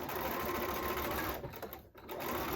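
A sewing machine chain pieces quilt block pieces in an assembly line, its needle whirring in a rapid close-up chatter that briefly slows and dips between pieces before picking up again.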